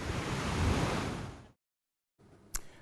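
Ocean waves roll onto Anglo Beach in Shama with a loud, broad rush under wind buffeting. The surf cuts off into a moment of silence, then returns faintly with a short bump.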